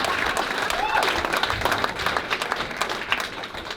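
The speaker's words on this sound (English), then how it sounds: "Give me applause for that" An audience at a comedy roast claps and cheers at moderate volume. Scattered individual claps stand out against the crowd, and a voice is heard briefly over the noise.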